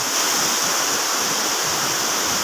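Waterfall at Seyðisfjörður in the Icelandic east fjords, a steady broadband rush of falling water with constant hiss and low rumble, close and continuous with no talking.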